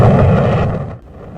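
Apollo 11 rocket engines roar at launch in archival footage, a loud, rumbling blast that holds briefly and then fades away after about a second.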